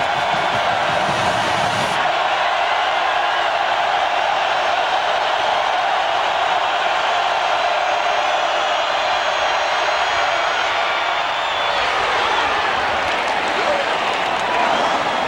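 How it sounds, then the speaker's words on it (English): A loud football stadium crowd roars and cheers continuously during a 1995 Tennessee versus Florida college game, a dense sustained wall of noise that swells again near the end, with a commentator's voice faintly underneath. "The crowd are really loud now."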